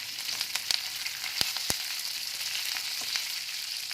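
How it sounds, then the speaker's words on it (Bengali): Curry leaves and coriander stalks frying in a pan while being stirred: continuous bright sizzling with several sharp scraping clicks from the spoon, close and even in level, no voices. "দিয়ে ভালো করে একটু এখন নাড়াচাড়া করে নেব"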